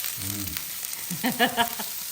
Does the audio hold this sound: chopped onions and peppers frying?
yes